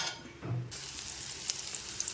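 Cinnamon sticks go into hot oil in a pan to temper spices for a Tamil mutton curry, setting off a sudden close, loud sizzle that crackles on steadily after a brief quieter moment.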